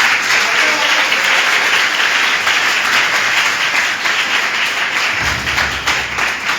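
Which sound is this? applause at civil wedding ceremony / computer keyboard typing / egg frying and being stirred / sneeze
applause at civil wedding ceremony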